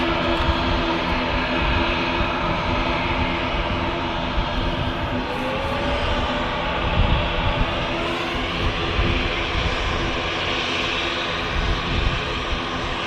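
An Aer Lingus ATR 72 turboprop takes off on runway 23 right at Manchester Airport, its engines a loud, continuous, rumbling drone that holds steady throughout, with no voices.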